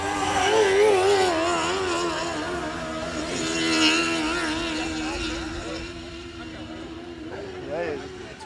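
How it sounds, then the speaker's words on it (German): A loud racing sidecar motorcycle engine revs and drones nearby during race training, rising and falling in pitch, with people talking over it. "jetzt bin ich mal gespannt, wie der sich anhört. Wie ein Motor."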